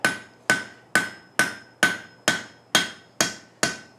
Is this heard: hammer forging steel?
yes